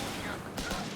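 Rifle squad volley in Company of Heroes 3, a tight cluster of two or three sharp cracks in a single second over a steady battlefield background.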